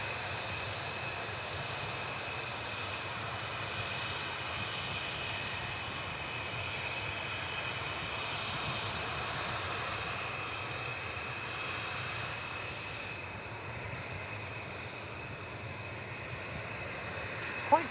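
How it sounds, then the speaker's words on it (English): A Ryanair Boeing 737-800 jet from Dublin rolls out after landing at Manchester Airport, its engines giving a continuous, fairly distant rumble and whine at an even level for the whole stretch, with no voices. "Ryanair 558 from Dublin, EIDWX just rolling out there"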